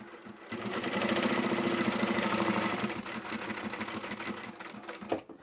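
A sewing machine backstitches at the top edge of a drawstring bag seam, giving a steady, close mechanical whirr with a fast stitching rhythm for about five seconds, then a brief clunk as it stops.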